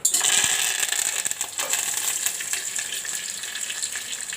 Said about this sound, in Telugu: నూనె వేసుకున్న తర్వాత కరివేపాకు, మినపప్పు, శనగపప్పు, జీలకర్ర